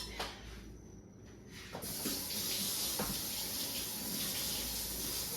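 A kitchen tap starts running to rinse a knife: a few faint clicks at first, then a steady hissing stream of water that continues close and fairly quiet to the end.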